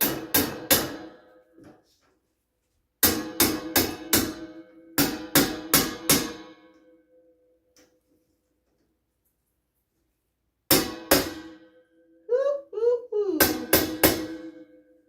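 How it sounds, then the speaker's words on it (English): Sharp hammer blows driving a shelf into place, struck in quick bursts of three or four, separated by pauses, with brief creaks between the groups. "hammer it in."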